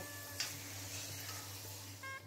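Onions frying in oil until reddish-brown for a Bengali fish-head chanchra, giving a soft, steady sizzling hiss that stays faint and close throughout, with a faint low hum beneath it.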